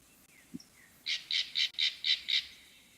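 A crow gives six harsh, evenly spaced caws in a row, fairly close, after a soft isolated knock against quiet outdoor background.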